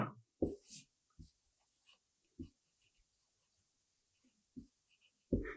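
Chalk or marker writing a word on a board during a Bengali grammar lesson, a few short scratchy strokes spaced out over quiet room tone, close and fairly faint.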